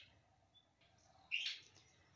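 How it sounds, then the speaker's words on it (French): A single faint bird chirps briefly in a quiet natural setting, one short call standing out against near silence. "à ces oiseaux qui chantent"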